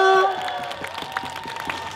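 A concert crowd at an outdoor charity event in Yesan claps and cheers loudly in a dense burst that trails off over two seconds, with a sustained tone fading near the start.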